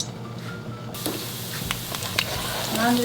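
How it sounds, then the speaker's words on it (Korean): Minced garlic hits hot oil in a frying pan, a steady close sizzle that starts with a sharp hiss and crackles on, with a few light clinks of utensils. "한 팬에 기름을 둘러 주시고요, 마늘을 먼저 넣어 줍니다"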